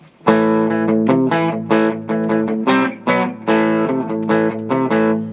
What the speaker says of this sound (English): There, we got some reverb.